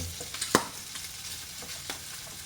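Pork browning in a frying pan for humba gives a low, steady sizzle with a few sharp spatters and stirring scrapes, one pronounced clack near the start, fairly quiet and close.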